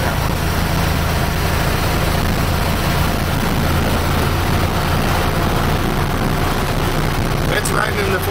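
Steady low engine rumble from a 1947 Dodge W Series truck while driving, a continuous drone with broadband road and cab noise and no breaks.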